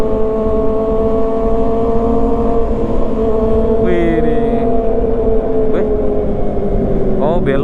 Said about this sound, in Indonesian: Wih, enak juga dengerin suara 4 silinder.